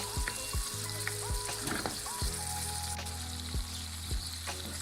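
Chopped tomatoes sizzle steadily in a hot pan while a spoon stirs them, making several soft scraping knocks against the metal over the constant close frying hiss.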